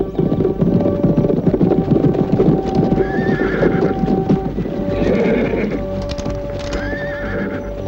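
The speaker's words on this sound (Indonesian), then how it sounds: "ada 10 orang naik kuda sedang menuju kemari" Horses gallop in a steady clip-clop of hooves, with several loud neighs and whinnies rising over the rhythm, produced as a close, busy sound effect for an Indonesian radio drama about riders approaching.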